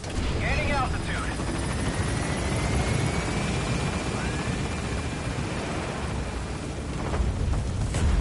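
A helicopter lifts off from a landing zone in the video game Metal Gear Solid V with a continuous rotor and engine roar. A radio voice and faint whistling tones sit over the noise.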